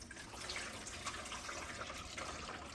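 Water pours into the reservoir of a Duesi hydroponic growing kit, making a faint steady trickle and gurgle that runs throughout without any speech.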